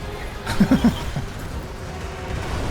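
A horse in the video game Warframe gives a short whinny of three quick nickering pulses, moderately loud over a low game background, with no talking.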